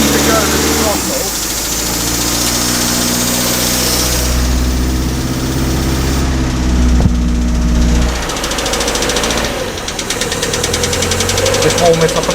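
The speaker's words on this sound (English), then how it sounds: "Now that it's idling alright" 1956 Standard 8 car engine idling with a steady low throb, the revs briefly rising in the middle before settling back to a lumpy idle.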